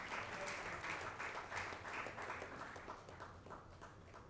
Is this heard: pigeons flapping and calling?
no